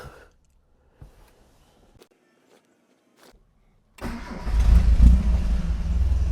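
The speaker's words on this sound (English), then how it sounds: "Here we go for the cold start. We'll give it a few pumps." A 1978 Scorpion gets a cold start: a few quiet clicks and pumps, then the engine catches abruptly and settles into a loud, rumbling idle close by.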